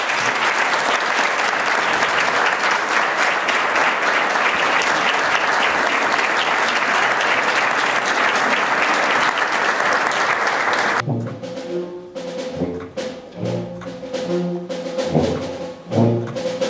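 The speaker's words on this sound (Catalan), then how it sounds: "Un aplaudiment." Audience applause at a youth band concert celebrating a 25th anniversary: loud, dense clapping fills the hall for about eleven seconds, then stops abruptly, leaving quieter scattered sounds.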